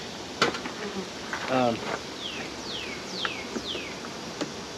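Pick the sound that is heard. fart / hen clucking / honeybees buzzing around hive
honeybees buzzing around hive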